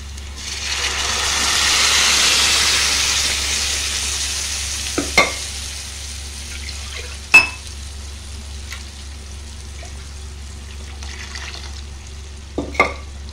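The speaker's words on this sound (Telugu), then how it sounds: "ఇప్పుడు మనం ముందుగా మెదిపి పెట్టుకున్న పప్పుని పోసుకుందాము." Mashed red lentils are poured into a hot tempering with asafoetida for tomato dal, a soft rushing sizzle that swells then settles, followed by a few sharp spoon knocks and stirring scrapes over a low hum.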